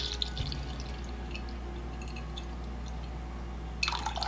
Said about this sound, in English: I'm going to pour some of my soy sauce